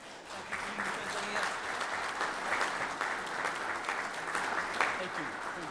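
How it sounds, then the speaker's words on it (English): Audience applause fills a mayor and aldermen meeting room, a steady, dense clapping that holds at moderate level throughout with some talk mixed underneath. "Can we give him a round of applause?"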